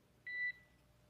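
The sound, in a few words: alarm beeping during Crew Dragon recovery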